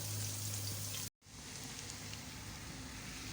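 Two large chopped onions frying in oil toward golden brown for a chicken tikka biryani: a quiet, steady crackling sizzle with a very brief dropout near the start before the hiss carries on evenly.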